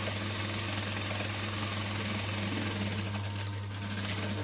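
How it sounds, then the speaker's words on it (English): A sewing machine stitches a fabric seam with a quarter-inch allowance, running continuously for several seconds as a steady, dense mechanical whir with a low hum beneath, close and even, with no talking. "just stitch all the way along the top"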